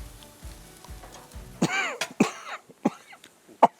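Several harsh coughs and throat-clearing bursts close by from barbecue smoke, following a low sizzling of chicken on the grill with faint rhythmic clatter.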